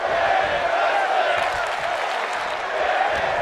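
Crowd noise from a wrestling video game, a steady, loud wash of cheering and applause filling the whole stretch without breaks.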